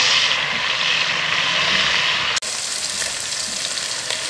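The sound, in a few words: chicken with ginger garlic paste frying in pan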